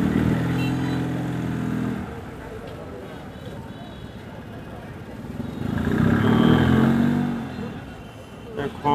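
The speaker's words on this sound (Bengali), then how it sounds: "গাড়ি ভরে ভরে গরু ছাগল আসতেছে।" Vehicles loaded with cows and goats pull into a cattle market early in the morning, their engines rumbling and swelling close by under steady talk from people nearby.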